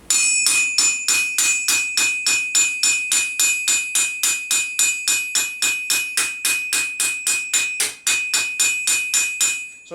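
A scutcheon hammer strikes a steel armour plate in a fast, even run of ringing metallic blows, about three per second, bright and close, with no talk.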